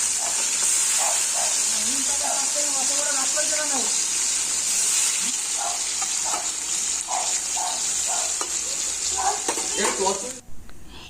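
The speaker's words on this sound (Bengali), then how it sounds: "তেলটা বেশি করেই দিয়েছি তার মধ্যে একটু পেঁয়াজ দিয়েছি পেঁয়াজটা একটু ভালো করে নেড়ে চেড়ে" Onions fry in plenty of oil for a goat meat dish, giving a steady loud sizzle and occasional stirring clatter, with music and a voice playing over the top before a quieter moment near the end.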